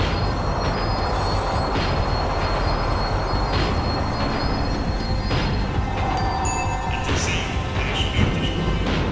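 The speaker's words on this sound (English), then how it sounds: "The tram was slowing down, and I'd only just gotten on board." A tram slows down in the Max Payne 3 video game, with continuous loud rail rumble and wheel noise, scattered metallic clanks and squeals, and a brief high screech near the end.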